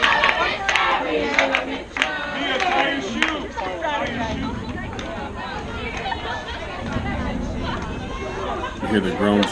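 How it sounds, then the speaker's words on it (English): Crowd noise at a youth 14U softball game in the Tahoe Invitational, a loud, continuous murmur of many voices with scattered shouts and groans, close to the listener throughout. "You hear the groans from the crowd"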